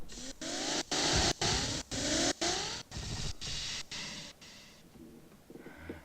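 A ridable toy Harley Davidson motorcycle's small electric motor whines in a run of rising pulses that stop and start with brief gaps, close and fairly steady, then fade out near the end.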